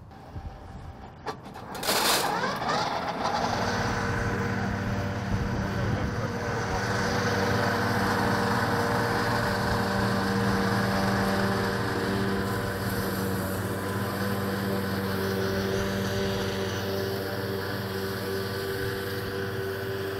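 Kverneland grass mowers on quadrilink suspension, running behind a tractor on a New Zealand farm: after a brief clatter the machinery starts up into a loud, continuous mechanical drone with a steady hum that holds throughout.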